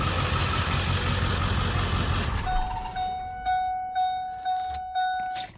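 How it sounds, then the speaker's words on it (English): A truck engine idles with a steady rumble, then cuts out, leaving quieter cabin sounds with a faint repeating electronic tone and soft periodic clicks. "Let me turn my truck off for a little bit."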